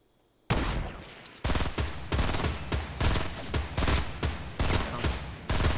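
Rapid bursts of gunfire from a Fortnite match ring out loud and close in repeated rhythmic volleys, following a short quiet opening.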